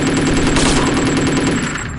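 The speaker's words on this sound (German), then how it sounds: "erstmal wieder schießen." Rapid automatic gunfire in the shooter game Chaser, a loud, continuous burst of rattling shots that keeps going and eases off slightly near the end, with no talk over it.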